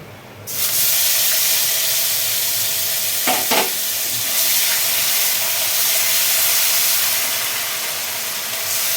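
Onion paste and turmeric sizzle in hot oil in a wok while a Bengali potato-peel chorchori is cooked, giving a loud, steady hiss of frying with a brief stirring scrape partway through.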